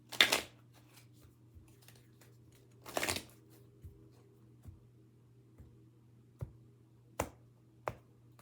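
Tarot cards being shuffled and drawn at close range, a couple of brief riffling bursts followed by sparse, soft card snaps and taps in a quiet room.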